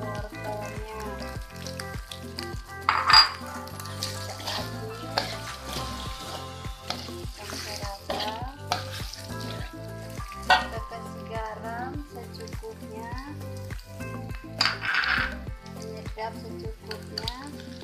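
A spoon stirs fried potatoes and carrots with fragrant spices in a frying pan, producing a gentle continuous sizzle over regular scraping strokes that scrape and tap steadily for the whole stretch.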